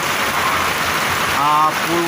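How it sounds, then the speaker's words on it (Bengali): Rain falls on a tin roof in Gobindaganj, Gaibandha, a steady close hiss of drops with a brief tonal sound and faint voice-like traces near the end. "বহুদিন পর শান্তির বৃষ্টি নামলো"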